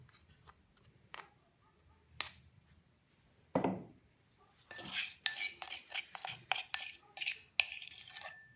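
Garlic and salt mixed in a bowl with a utensil, scraping and clinking against the bowl in irregular bursts, quiet at first and then busier and denser toward the end, with no talking.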